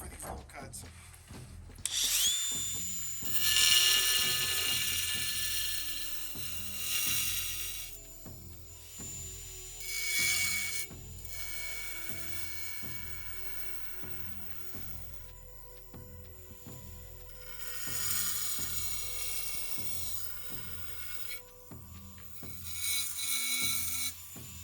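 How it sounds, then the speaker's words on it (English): Angle grinder cutting tile during a small tiling job, a steady motor drone with repeated surges of abrasive grinding as the blade bites in and eases off, close and moderately loud, running alone throughout. "This is made for cutting tile, masonry, stuff like that."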